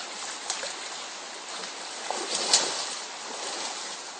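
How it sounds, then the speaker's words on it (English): A river runs below a castle at Crawfordland, a steady broadband rush of flowing water with occasional faint splashes, even and continuous throughout. "This is a river just at the bottom of the castle."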